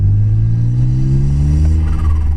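A Smart Roadster's turbocharged engine drones loudly and rises steadily in pitch as it accelerates onto a motorway, a deep continuous rumble heard from inside the car.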